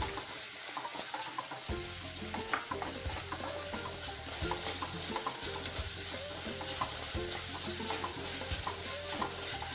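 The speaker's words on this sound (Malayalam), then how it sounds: "ഇനി ഇത് നന്നായി വഴറ്റിയെടുക്കാം" Cashew nut curry sautés in a pan with a steady, close sizzle and continuous stirring scrapes throughout, with no voices.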